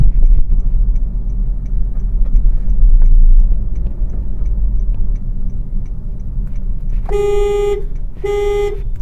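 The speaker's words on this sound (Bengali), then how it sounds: "হর্ন যখন দিব সফটলি আমরা এভাবে দেবো" Two short, soft taps of a car horn sound near the end while driving, over a steady engine and road rumble in traffic.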